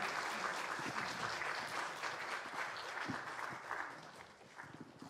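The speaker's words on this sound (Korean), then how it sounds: "우리 부장 선생님들 인사하실 때 큰 박수 보내주세요." A church congregation at a Sunday worship service gives sustained applause for department teachers. The clapping is steady and fairly soft, heard at a distance, then tapers off toward the end.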